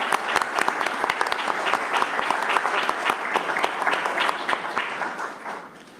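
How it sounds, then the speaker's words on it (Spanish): An audience applauds an invited guest at an opening meeting of priests, with sustained, dense clapping at steady volume that fades out toward the end. "Pido un aplauso para nuestro invitado."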